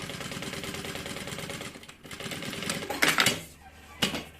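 A sewing machine stitches a seam on a bag in one steady run of rapid mechanical clatter, then pauses, followed by a couple of brief sharper knocks near the end.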